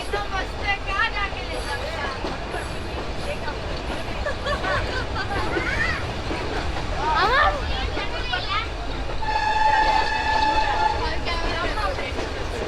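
An Ooty toy train rolls past a railway level crossing where people wait, a steady rumble with rising chatter and a sustained horn-like tone toward the end, people talking nearby throughout.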